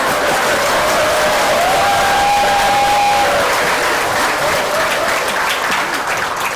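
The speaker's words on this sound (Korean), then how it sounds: "박수가 이거밖에 안 나오나요?" Audience at a Buddhist lecture on Chinese Buddhism breaks into loud, steady applause that holds at full strength for several seconds, with a dense wash of many hands clapping close by.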